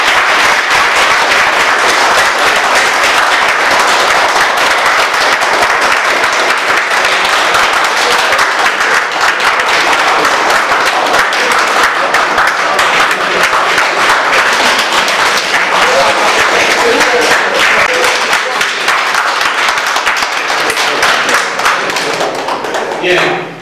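Sustained applause and tapping from an NGO general assembly voting by acclamation on expelling a member, loud and dense throughout with thumps and voices mixed in, fading at the very end.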